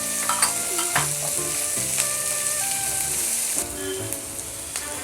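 Crushed raw garlic fries in hot oil in a pan with a steady loud sizzle, punctuated by scraping stirs of a spoon, no voices.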